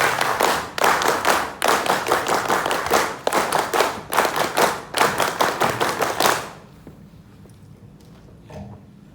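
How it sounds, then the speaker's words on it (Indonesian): A crowd performs the patterned Pramuka scout clap twice at a regional scout meeting in East Kalimantan: loud, rhythmic group claps in tight bursts for several seconds, then abrupt quiet. "2 kali tepuk pramuka."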